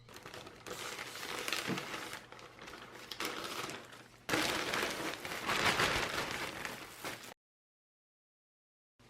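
Plastic wrapping rustles and crinkles as a parcel of ordered fabrics is torn open up close, in two long busy bursts separated by a brief pause, ending in silence.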